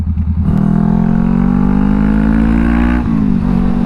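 A 2020 Honda CBR500R motorcycle engine hums loudly and close while riding, holding a steady drone that rises slightly in pitch, then dips briefly near the end as the throttle eases.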